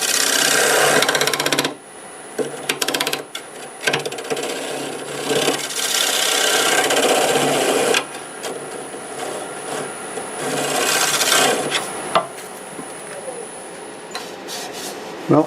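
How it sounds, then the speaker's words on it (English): A negative rake scraper rasps against the bottom of a wet wood bowl spinning on a lathe, producing loud continuous scraping that breaks off in short gaps and resumes in close, gritty passes. "We'll clean that little bottom area out of here with the negative rake scraper."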